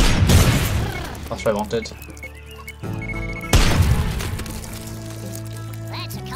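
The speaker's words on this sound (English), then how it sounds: "I'm gonna go with the airstrike up there, because there's a mine." Airstrike explosions in the game Worms Revolution burst in a loud cluster of booms and crashes, followed by a second heavy blast, with someone talking over them.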